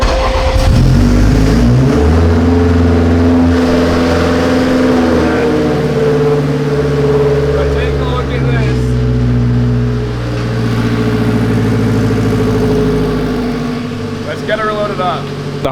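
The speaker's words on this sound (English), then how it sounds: "Let's go ahead and get a cold start. Maybe a lukewarm start." An AWD Honda Civic engine fires up from cold, catching with a brief rev before settling into a steady, rough idle, loud and close throughout.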